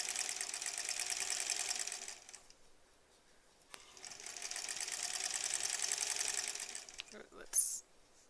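A sewing machine stitches a quilt seam in two steady runs of fast, even needle clatter, quiet and close, with a pause between them and a small clunk near the end.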